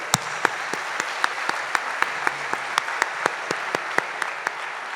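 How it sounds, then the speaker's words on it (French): Audience applause at a French political meeting on housing policy, a dense bed of clapping with a single sharper clap standing out in a steady, evenly spaced rhythm, moderately loud throughout. "on peut même l'applaudir bien fort."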